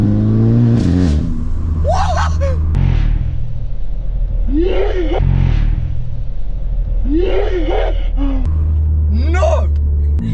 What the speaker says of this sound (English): Not even going fast, listen. Why is my car whispering to me?